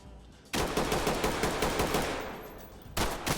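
Sustained automatic gunfire in the tactical shooter Ready Or Not, a dense rapid burst that runs nearly three seconds, breaks briefly, then resumes loud and close.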